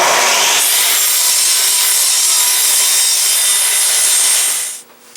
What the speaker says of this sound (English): I cut it on edge so that I can see where I'm cutting basically